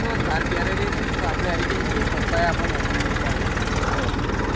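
A tractor engine running in a field, a steady, throbbing mid-pitched drone with a regular pulsing rhythm, close and fairly loud throughout the short stretch.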